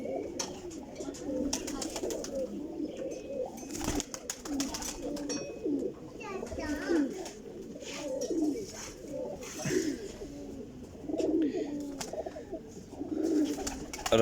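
Flying pigeons coo repeatedly in soft, rhythmic bursts, several birds overlapping at close range with faint chirps and rustling throughout.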